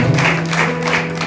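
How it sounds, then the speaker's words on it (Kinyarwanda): A church congregation breaks into steady applause during a service, clapping dense and continuous throughout, with a faint low hum beneath. "nimumukomere amashyi kuba abyemera."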